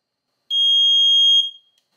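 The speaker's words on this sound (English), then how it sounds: "I can now push and hold the button and it'll beep." A single loud, pure electronic beep lasting about a second, then stopping cleanly, from a Tesla Model Y power frunk module being tested after installation; no other sound around it.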